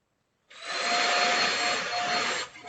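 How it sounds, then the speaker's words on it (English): A vacuum cleaner switches on after a brief silence and runs with a steady, airy roar and a thin tonal whine, moderately loud and continuous, dipping slightly near the end; no one speaks. "I got the vacuum cleaner going in the background."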